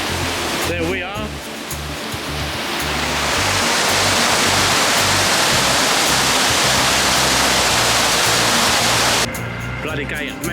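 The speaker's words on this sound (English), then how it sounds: "So pretty much a waterfall." A waterfall pours steadily in a loud, broad rushing roar that swells and holds for most of the stretch, with brief bursts of nearby handling noise at the start and end.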